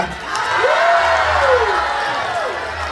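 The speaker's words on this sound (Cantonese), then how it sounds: "咁希望大家俾最熱嘅掌聲" Audience at a Macau music video awards gala cheering and applauding after a live song-and-dance performance: a sustained crowd roar with a long rising-and-falling whistle or whoop over it.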